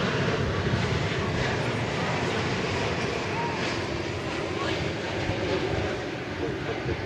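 A jet airliner that arrived from Tokyo at Dallas Fort Worth International Airport, heard as a steady, loud broadband engine roar that holds without pause for the whole stretch, with faint voices underneath.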